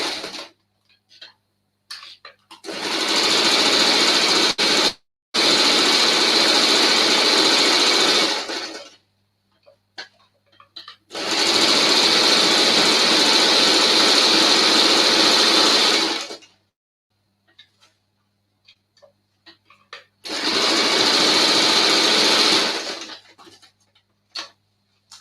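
A Janome 500e embroidery machine sewing a hooded towel runs in three long steady bursts of several seconds each, whirring with a fast mechanical patter, separated by quiet pauses with small clicks and handling noises.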